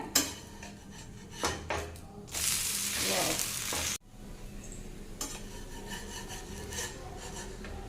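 A soya chunk adai fries in oil poured around its edges on a hot pan. Gentle sizzling runs beneath scrapes and taps of a spatula against the pan, with a louder burst of hissing in the middle.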